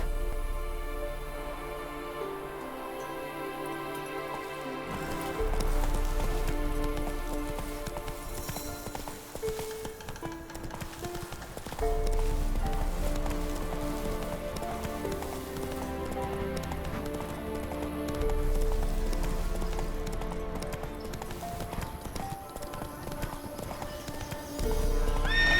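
Roach, a horse in the video game The Witcher III, gallops with rhythmic hoofbeats and snorts, and a whinny rises from time to time, all mixed under loud game music.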